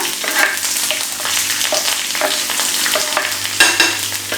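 Chopped onion, half of a medium one, is tipped into a hot pan and stirred, sizzling briskly under scraping spoon strokes and a few sharper knocks, close and fairly loud with no talking.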